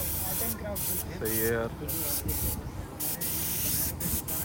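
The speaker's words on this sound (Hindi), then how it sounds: "स्प्रे पेंटिंग, स्प्रे से ही पेंटिंग कर रहा है" A spray can hisses in repeated bursts as a street artist spray-paints at Global Village, with someone talking close by over the steady spraying.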